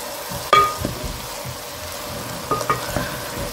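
A spoon stirs spices such as black pepper, chili flakes and thyme through chicken and rice in a pan, giving a sharp scrape at the start and then soft, close sizzling and scraping strokes without speech.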